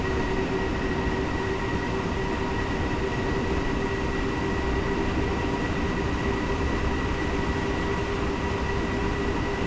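A BR 426 train in Train Simulator 2015 on the Augsburg to Munich route accelerates at full power, giving a steady loud rumble of running gear with sustained electric motor whine tones and no change over the stretch.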